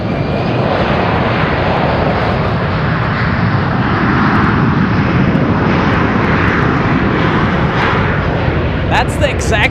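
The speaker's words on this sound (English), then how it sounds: "Gulfstream stealing the spotlight with that sound" A Gulfstream business jet takes off at full power at San Francisco airport, a loud, steady, broadband roar that stays strong throughout, with faint voices underneath.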